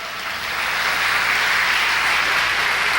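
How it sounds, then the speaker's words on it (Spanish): A church congregation breaks into applause that swells within the first second and then holds as a dense, even wash of clapping to the end. "Denle un aplauso al Señor."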